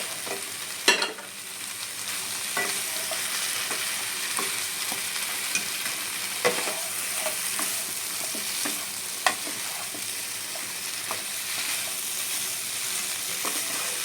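Fried potatoes tumbled into a pan of sajne (drumstick) curry and stirred, a steady close sizzle with scattered scraping clinks of the spatula against the pan, no voices.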